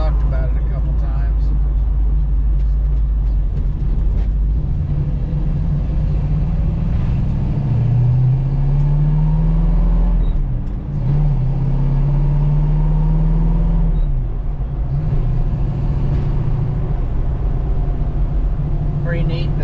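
A car cruising on country back roads, recorded from inside the cabin, with a loud continuous engine rumble and tire drone that rises and falls through gear changes under ongoing conversation.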